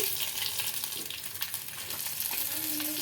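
Cumin, mustard seeds, curry leaves, dried red chillies and green chillies frying in hot oil, a steady close crackling sizzle throughout with scattered sharp pops and stirring, no talk.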